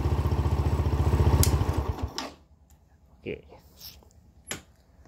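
A Yamaha Jupiter Z motorcycle idles with a fast, rattling putter, close and loud, then cuts out after about two seconds; someone talks over the engine and keeps speaking in the quiet afterward.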